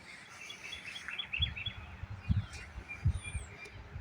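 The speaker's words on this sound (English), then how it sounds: "Just sit out here and listen to the birds." Birds chirp outdoors on a sunny spring day, with short high calls and a whistled note scattered over a soft background, while low muffled thumps and handling noise sit close by.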